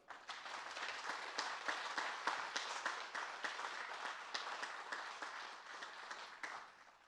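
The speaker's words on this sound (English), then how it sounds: "if we could have a round of applause for her" A graduation audience at a public safety training center ceremony claps steadily for an honoree. The applause is dense and sustained, swelling and easing slightly, and fades away at the end.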